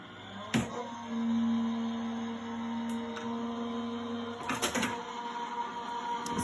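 A card die-cutting machine runs quietly close by for a few seconds with a steady mechanical hum and a sustained tone, broken by a few sharp clicks and clunks as the card feeds through.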